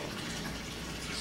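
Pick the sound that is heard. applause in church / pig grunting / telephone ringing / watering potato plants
watering potato plants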